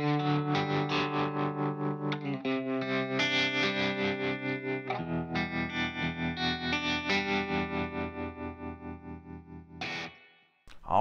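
Sustained guitar chords pulsing with a steady, fast tremolo throb from a Fender Tre-Verb pedal, slightly distorted and chorused, played alone with a few chord changes.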